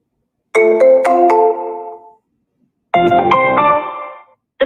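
A melodic electronic ringing tone sounds loud and clean in two bursts with a gap between, the start of a third at the end, while cold calling on a power dialer.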